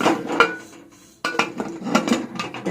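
A pressure cooker lid is fitted and closed with several metallic clanks and scrapes, a brief pause, then more clinking.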